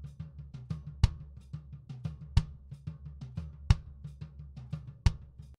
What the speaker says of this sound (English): Kick inside mic sounds like this.